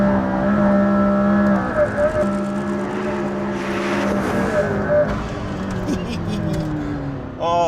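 A McLaren P1 hybrid supercar driven hard on a test track, its engine roaring and its pitch rising and falling through gear changes, loud and close, with someone talking over it.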